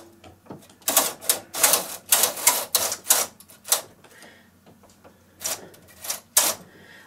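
Lace carriage of a Singer knitting machine being worked across the needle bed, a run of sharp mechanical clacks and rattles in quick bursts, close up, then a pause and a few more clacks.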